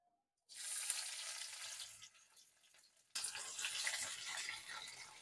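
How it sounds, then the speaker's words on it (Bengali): Chopped onion hits hot oil already tempered with cumin for a mung–masoor dal tadka, bursting into a loud, close sizzle that eases slightly, then surges again as the onions are stirred. "এবারে কুচি করে রাখা পেঁয়াজ আমি এর মধ্যে দিয়ে দেব।"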